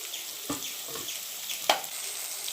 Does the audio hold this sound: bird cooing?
no